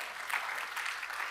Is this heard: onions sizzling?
no